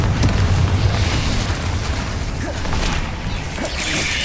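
Confringo fire spell blasts in the Hogwarts Legacy video game, a dense, roaring wash of fiery explosion noise that runs continuously at close range with deep rumbling underneath and a few whooshing bursts.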